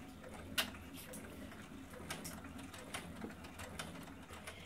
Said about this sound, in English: I'm going to run the next step, which is a quick bean stitch to secure both of those.